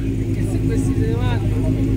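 A car drives through traffic, its engine giving a steady low rumble close up from the cabin, while people talk over it.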